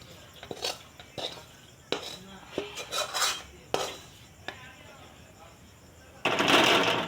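A spoon scrapes sticky peanut and sesame tilgul filling from a pan onto a metal plate in short, irregular clinks and scrapes, ending in a louder rough burst, with a voice speaking over it.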